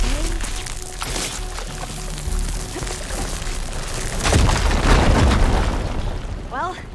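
A fire gleam explodes in Horizon Forbidden West, giving a loud, sustained roaring blast of crackling noise that swells toward the end, with brief voice-like sounds near the close.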